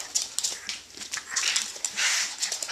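Intermittent high whimpers from a dog come in short bursts close to the microphone, with no talk during the clip.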